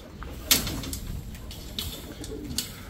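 Pigeons coo softly at close range while being shifted into a new cage, with a few sharp knocks and rustles of handling over a steady indoor background.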